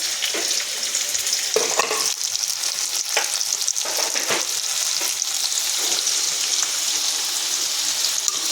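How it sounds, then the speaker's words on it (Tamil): Potatoes and broccoli sautéing in a pan: loud, steady frying hiss throughout, with intermittent scraping and stirring taps from a utensil. "இது உருளைக்கிழங்கு கொஞ்சம் வதங்கணும்"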